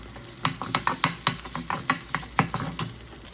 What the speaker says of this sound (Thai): ตั้งน้ำมันให้ร้อนนะครับ พอร้อนเสร็จก็ตามด้วยพริกแกงใต้เลยนะครับ แล้วก็ผัดพริกแกงใต้ให้หอมนะครับ